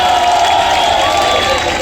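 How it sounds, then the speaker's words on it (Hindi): A crowd claps and cheers loudly and steadily for a trust president at a community gathering, a dense continuous roar of applause with voices mixed in throughout. "इनके लिए ताली बजाओ"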